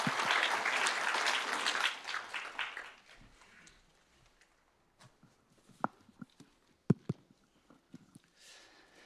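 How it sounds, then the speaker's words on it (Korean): Applause in a church welcoming a speaker: a congregation claps loudly for about two seconds, then fades to scattered claps, followed by quiet with a few sharp knocks and footstep-like taps. "박수로 환영하겠습니다."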